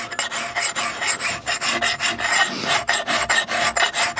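A Husqvarna forest axe bit has its bevel worked with a hand file, giving steady rhythmic rasping strokes, close and fairly loud, each pass scraping bright and gritty with short gaps between them and no voices.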